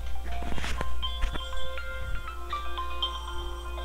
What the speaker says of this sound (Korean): 잠시만 전화가 와서